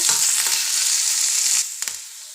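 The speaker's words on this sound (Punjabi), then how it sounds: "ਹੁਣ ਆਪਾਂ ਇਹਦੇ ਵਿੱਚ ਐਡ ਕਰ ਲੈਣੇ ਪਿਆਜ਼ ਤੇ ਨਾਲ ਹੀ ਕਰ ਲੈਣੇ ਆ ਸਿਮਲਾ ਮਿਰਚ ਇਹਨਾਂ ਨੂੰ ਆਪਾਂ 1-2 ਮਿੰਟ ਲਈ ਕੁੱਕ ਕਰ ਲੈਣੇ" Onion and capsicum fry in a pan with garlic, giving a loud, steady hiss with a few stirring scrapes; the sizzle cuts off abruptly near the end, leaving faint clicks.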